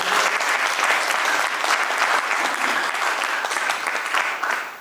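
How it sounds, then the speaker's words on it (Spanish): An audience at a book presentation in Cochabamba applauds Juan Ramón, with sustained, full clapping from a room of people that holds steady and then tapers slightly at the end, close and loud. "Un aplauso para Juan Ramón."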